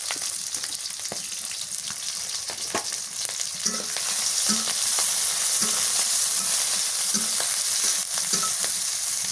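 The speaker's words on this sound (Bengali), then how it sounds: "কাঁচামরিচ পেঁয়াজ দিয়ে দিই" Green chillies and onion fry in mustard oil in a kadai, giving a steady broadband sizzle that swells louder midway, with a few soft stirring clicks and no talk.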